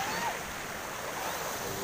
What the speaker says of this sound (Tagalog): Ayan, mahalik ang mga alon sa dalampasigan.